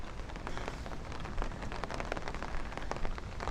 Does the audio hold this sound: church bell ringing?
no